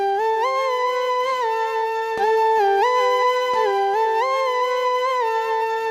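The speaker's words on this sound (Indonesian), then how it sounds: "Setelah ini langsung saja kita coba suara sulingnya menjadi seperti apa." Suling bamboo-flute voice played legato on an ORG 24 keyboard: a clear, breathy melody of sliding, bending notes rises and falls smoothly, close and moderately loud, with a couple of faint clicks and no talking.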